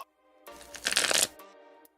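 A deck of playing cards given a riffle shuffle at a Magic: The Gathering table, a quick soft ripple of cards interleaving that builds to a dense flutter and then stops, with a few light taps around it.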